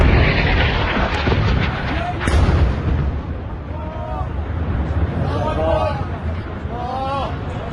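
Heavy booming blasts from bomb strikes during an Israeli attack in Lebanon, loud and rumbling, with a sharp crack near the start and a crowd of voices shouting throughout.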